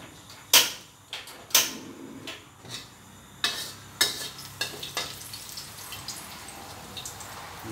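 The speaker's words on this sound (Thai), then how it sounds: "เราทอดซี่โครงแล้วนะครับเอามาผัดกับพริกสดนะครับ" Already-fried pork ribs are stir-fried in a wok with fresh chili, green peppercorns, onion and kaffir lime leaves. A steady sizzle runs under repeated sharp spatula clanks and scrapes, loud at first and then quicker and softer, with no talking.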